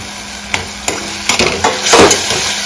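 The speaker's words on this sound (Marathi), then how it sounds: "गॅस एकदम कमीच आहे, चांगला 5-5 मिनिट ढवून घ्यायचं आहे आणि कांदा अगदी चांगला गुलाबी होईपर्यंत आपण तो परतून घ्यायचा आहे" Onions sauté over very low gas in a pan for a Malvani clam curry, stirred with a series of sharp utensil knocks and scrapes over a steady frying hiss that swells near the end.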